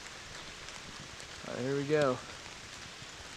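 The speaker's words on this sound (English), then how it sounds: "it is raining pretty good" Steady rain falls on a forest trail among ferns, a constant soft hiss running through the whole stretch, with a brief spoken phrase from a nearby voice in the middle.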